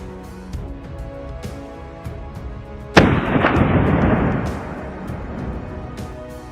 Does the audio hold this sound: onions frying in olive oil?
no